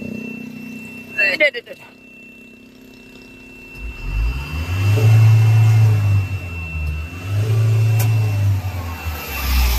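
A Euro 4 vehicle engine, previously smoking from the exhaust, rumbles low and steady and then revs up in two long swells for an RPM check, loud and close, after a brief burst of clatter at the start.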